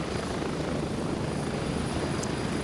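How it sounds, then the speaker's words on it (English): A helicopter drones loudly and steadily in the shooter game Gray Zone Warfare, a dense continuous rotor roar filling the whole stretch without pause, no speech. "right now, the helicopter being so loud in my ears"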